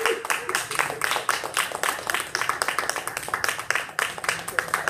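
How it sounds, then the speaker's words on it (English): An audience at a Toastmasters meeting claps in a quick, uneven patter for several seconds, with voices talking over the applause. "Give him a big applause."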